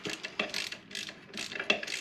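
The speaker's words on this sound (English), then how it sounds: "Alright, now I'm going to take these bolts off here." Ratchet wrench removing bolts from a Generac 7000 EXL generator engine, giving quick repeated close clicks in short rhythmic strokes, fairly soft with no talking.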